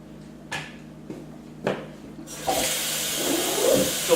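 A tap turns on and water pours steadily into a bucket for homebrew bottling, starting after a few knocks and clunks of handling, with the running water building into a continuous close hiss.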